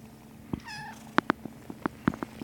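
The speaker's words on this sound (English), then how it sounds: "you got a cute purr" A kitten with a stuffed-up nose is held up close to the ear, giving a soft purr with snuffly, clicking breaths and a short meow-like squeak.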